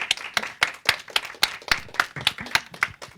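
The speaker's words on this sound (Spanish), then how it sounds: "Ella es Chela, les pido un aplauso para ellas" A small audience at a literature and arts panel discussion claps in a sparse, uneven rhythm, individual hand claps distinct and close.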